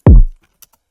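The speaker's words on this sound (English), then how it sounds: "some top kicks, which sound like this" A single deep, punchy kick drum hit with a quick attack and a short decaying boom, then near silence apart from a few faint ticks.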